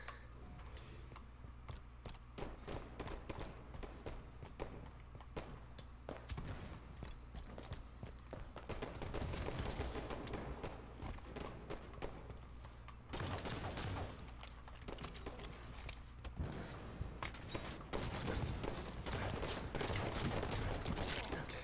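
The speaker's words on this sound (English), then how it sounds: "Literally, both of them are shooting at me!" Halo 5 free-for-all gunfire, with rapid crackling bursts of automatic shots and scattered single pops, fairly quiet and continuous through the match sounds.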